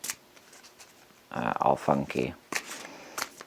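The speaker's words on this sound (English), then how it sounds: "I also have to shuffle this before I even start filming because I have to split the pile in 2." A Starman tarot deck is split and riffle-shuffled by hand in several quick rattling bursts, close up. A voice speaks briefly at the start.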